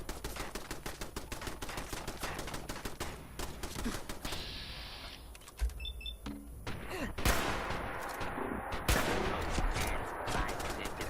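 Rapid bursts of automatic gunfire from Fallout 4 gameplay, with repeated sharp shots and dense fusillades across the whole stretch, a brief lull midway before heavier firing resumes.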